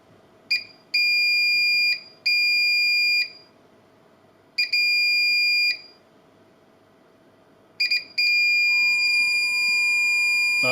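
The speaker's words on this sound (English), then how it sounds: "It's showing zones open, that's what that intermittent beeping" A Honeywell Galaxy Flex alarm keypad sounds loud, shrill beep bursts during time set while showing zones open. Three pulsing bursts arrive at irregular intervals over a faint background hum, and a final tone holds steadily to the end.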